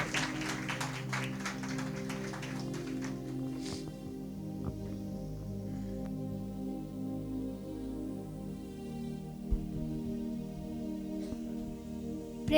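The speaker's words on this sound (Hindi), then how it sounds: "जोरदार ताली बजाए उन प्रभु के लिए" A church congregation applauding: a burst of dense, lively clapping for a few seconds that quickly thins out, leaving sustained keyboard or organ tones ringing under a few scattered taps.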